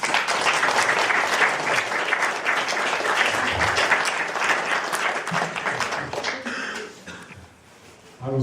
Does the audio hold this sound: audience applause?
yes